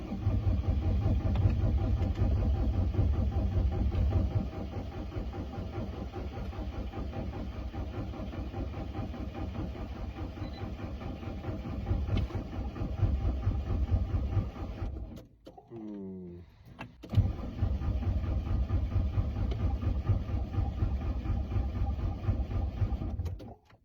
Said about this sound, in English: So we're gonna start her again. Sub-zero temperature, blown head gasket,